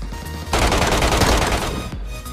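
Rapid automatic gunfire bursts dominate for about a second and a half in Peacekeeper Elite Metro Royale mode, loud and close, with quieter game ambience before and after.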